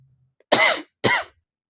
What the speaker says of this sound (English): I'm having a cough,